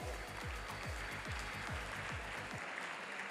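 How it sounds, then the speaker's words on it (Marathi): At a result celebration, an audience gives rapid, continuous applause that sounds fairly faint and distant, with no clear voices over it. "जोरदार टाळ्या झाल्या पाहिजेत"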